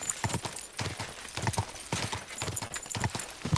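Horse hooves clip-clop in steady, repeated beats as a horse moves along in the video game Kingdom Come Deliverance II, fairly close, with a faint background hum.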